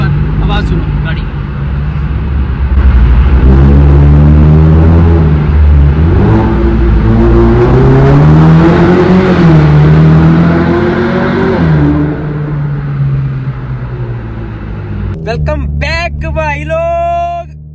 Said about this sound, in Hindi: एक और बार आवाज़ सुनो गाड़ी